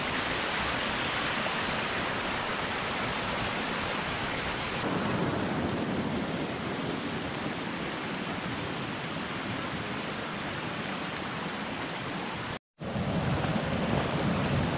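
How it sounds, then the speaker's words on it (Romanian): Steady rain falling in the mountains on a hiking trail near Canionul 7 Scari, a constant loud hiss of rainfall with a brief dropout near the end, no voices. "a început iar să plouă."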